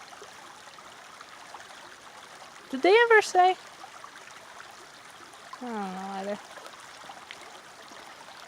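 A creek near Two Medicine in Montana's Glacier area flows with a steady, soft rushing hiss throughout, while people briefly talk over it.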